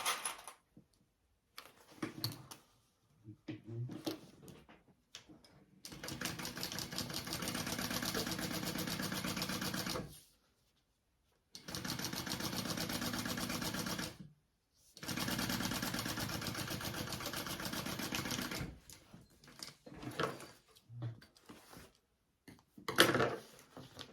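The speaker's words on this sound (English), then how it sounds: "We're gonna sew that, flip it up, and top stitch it." A sewing machine stitches the seam of a crossbody bag in three sustained whirring runs separated by pauses, close and fairly loud, with small handling clicks in between.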